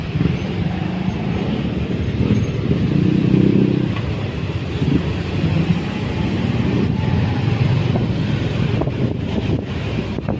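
Busy city street traffic in San Juan City, a continuous loud rumble of cars, trucks and buses passing close by, with engine drone swelling and easing and faint higher whines above it.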